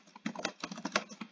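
Quick bursts of soft key clicks on a computer keyboard, a brief rapid run of close, faint taps with no talking.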